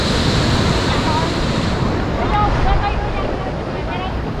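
Sea waves roll and wash steadily in Quy Nhon bay in Vietnam, a loud, continuous surf under heavy wind buffeting the microphone.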